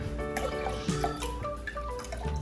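Water is poured slowly and carefully from a heavy container into a bottle for a homemade lava lamp, giving a close trickling, gurgling fill with uneven drips and splashes.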